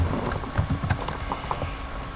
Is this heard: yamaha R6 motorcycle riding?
no